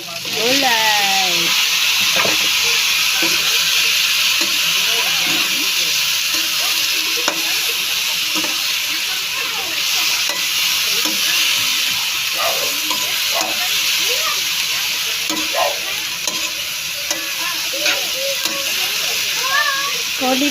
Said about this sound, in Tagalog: So, itagay na natin ang gulay.